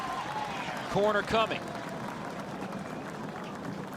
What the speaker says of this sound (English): And the Pitt crowd continues to get into it.